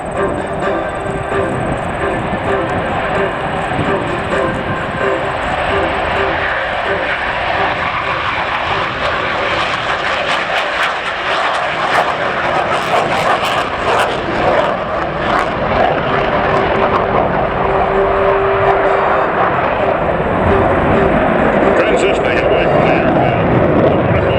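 A US Navy F/A-18C Hornet demonstration jet roars at maximum engine power during a 2017 airshow at Selfridge, a loud, sustained jet rumble that swells and shifts as it passes, with an announcer speaking over it.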